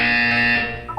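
A loud, steady electronic buzzer sounds in a Portal 2 test chamber, one sustained tone that holds for about a second before fading, with a brief second blip at the very end.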